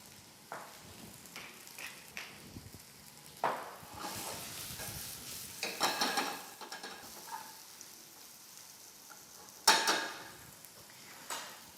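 Zucchini frying in a pan with salt and pepper, with a soft continuous sizzle broken by several stirring scrapes and clinks against the pan, close and fairly quiet with no talking.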